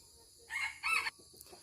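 A rooster kept in a yard of chicken coops, where fighting cocks are raised, gives one short crow in two bursts at moderate distance, with faint clucks after it and no talk.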